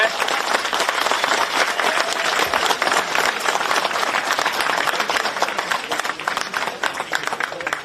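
A rally crowd claps in sustained, dense applause, a broad wash of many hands close and loud, with a faint murmur of voices mixed in throughout.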